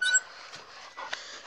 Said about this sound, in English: Get back, dog.